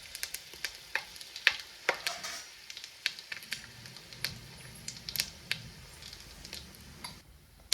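Bay leaves and whole spices frying in oil in a pot for vegetable biryani, a light crackling sizzle with sharp ticks and pops scattered throughout, close up, no voices.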